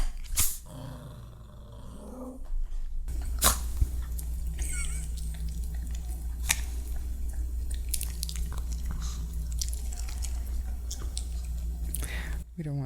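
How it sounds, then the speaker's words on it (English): A Pomeranian chews and crunches a treat up close in soft, wet, irregular bites over a steady low hum, with a voice speaking briefly at the start. "It was ASMR of my dog eating a treat."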